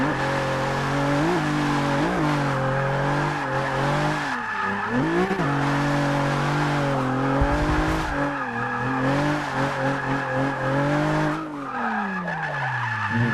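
A Nissan 350z driving hard on a track, its engine revving and sweeping up and down through gears with tires squealing and skidding, loud and close throughout.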